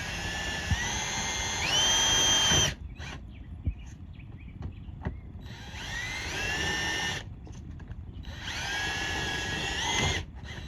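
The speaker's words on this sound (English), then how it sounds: "Pre-drill this hole through the tape, making sure it's still tight." A power drill pre-drills holes through tape for Coleman 17B friction hinges, whining loudly in three separate bursts of a few seconds each, its pitch rising and sagging under load, with quiet pauses between.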